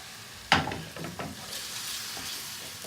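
Prawns and peppers frying in a pan as base gravy is added for Kashmiri garlic prawns, a sharp splash of liquid hitting hot oil followed by steady close sizzling and a few stirring scrapes.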